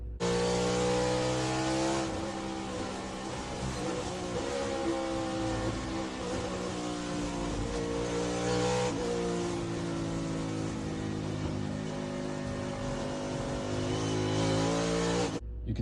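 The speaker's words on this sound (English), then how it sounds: "Now let's take a look at how a NASCAR car goes around the same track." A NASCAR race car laps a track, its engine a loud continuous high-revving roar with harmonic whine that shifts pitch as it accelerates through the gears, with no talking.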